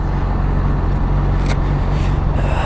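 A Honda CBR600RR motorcycle on the road, producing a loud, continuous engine drone with wind rush close to the microphone and a brief brighter swell midway, with no speech.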